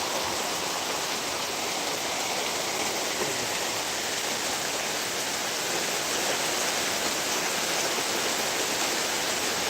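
Heavy rain pours down over Bhangura market, Pabna, in a dense, unbroken roar that stays loud and steady throughout.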